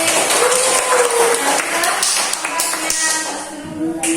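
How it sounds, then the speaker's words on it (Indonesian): A class of young primary school pupils claps together in a classroom, a dense, loud burst of applause that fades slightly toward the end, with voices mixed in. "Kita kasih tepuk tangan buat Mbak Bilkis."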